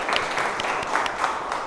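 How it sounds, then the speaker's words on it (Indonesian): Applause from a classroom audience of students, given for a classmate during a pharmacy lecture session; dense, steady clapping that stays moderately loud throughout, with no voices. "Kita beri tepuk tangan dulu untuk temannya."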